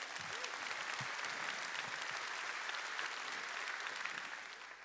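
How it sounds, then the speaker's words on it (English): Applause fills a large keynote hall at a business technology conference in Sydney, a broad, even roar of many hands clapping that holds steady and then tapers off toward the end. "Can we give a round of applause to all of our speakers and all of our customers?"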